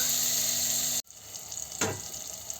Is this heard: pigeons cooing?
no